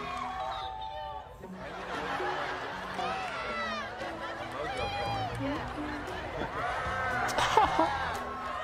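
A TV talent show audience on The Voice cheers and whoops throughout, a dense, continuous roar of crowd noise layered with music and voices, swelling louder toward the end.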